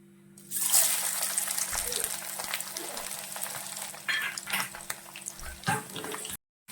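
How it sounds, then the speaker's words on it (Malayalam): Grated coconut sizzles steadily in a hot pan, close and continuous, with occasional scraping from stirring and no talking. "ഇനി നമുക്ക് ഈ ഓരോ ഐറ്റംസും നമുക്ക് ഈ തേങ്ങ വറുത്തെടുക്കാം"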